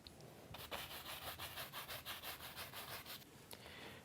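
A paint brush scrubs and blends soft blue paint around yellow on canvas, a run of about a dozen quick, rhythmic rubbing strokes, close and steady, with no talk over it.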